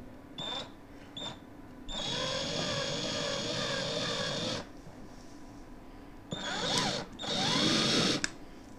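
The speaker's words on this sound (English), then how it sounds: "It's sliding instead of drilling." A handheld power drill runs in short bursts and longer whining runs while installing Thunder Torque inserts, its bit sliding on the surface, a close high-pitched motor whir that starts and stops repeatedly.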